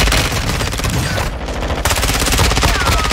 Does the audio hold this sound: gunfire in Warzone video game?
yes